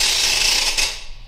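A rattle shakes in one dense, noisy rush of fine ratcheting clicks that swells briefly and then fades away.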